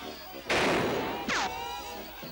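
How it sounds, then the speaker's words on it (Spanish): One sharp gunshot cracks out during an Old West shooting contest, a loud burst followed by a ringing whine, with a brief voice just after. "Buen disparo, pequeña."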